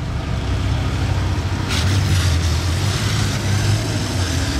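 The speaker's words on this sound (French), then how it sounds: "il y a d'autres voitures encore qui arrivent du rallye" Several cars come in from a rally near the Hôtel de Paris, making a steady close engine and road rumble. Broadband wind buffeting sweeps across it, with a brief whooshing pass partway through.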